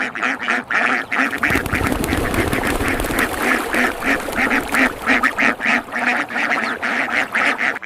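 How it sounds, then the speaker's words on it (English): A crowd of farm ducks quacks loudly and continuously around bathing basins, dense overlapping calls in a steady rhythm with water splashing beneath. "these basins will be used to bathe hundreds of ducks."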